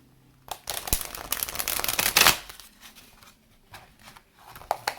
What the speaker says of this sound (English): I will do some shuffling, some rifle shuffling.